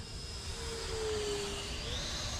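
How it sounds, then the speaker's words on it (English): A 3D-printed 64mm EDF model of a Mirage 2000 jet flies past with a steady, fairly loud ducted-fan whine and rushing air, the pitch drifting gently as it passes, with no one talking. "I made the best flying jet I've ever flown"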